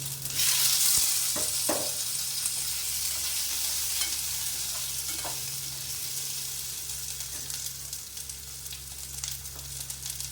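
Potatoes frying with mustard seeds in a pan: a loud, steady sizzle close by, with occasional soft clinks and scrapes of stirring.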